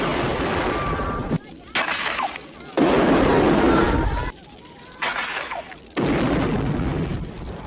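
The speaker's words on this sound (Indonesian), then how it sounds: "Rambo pun berhasil meledakkan mereka semua termasuk mobil yang berada tepat di atas jembatan Sukarame" Loud film explosions as a car is blown up on a bridge: sustained roaring blasts and rumbling bursts in heavy waves, broken by short quieter gaps, with gunfire-like cracks throughout.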